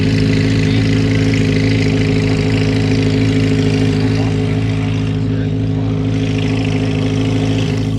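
A Chevrolet Corvette Z06 fitted with a costly aftermarket exhaust gives a loud, steady, deep engine rumble at close range, holding an even idle-like drone for the whole stretch.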